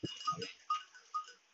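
Dairy goats on a farm bleat a few short times in quick succession, close by, around feeding time.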